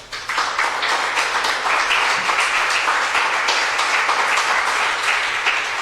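A church congregation claps for the Lord during a Spanish-language sermon, producing loud, sustained applause that fills the room evenly from start to finish, with no voice over it.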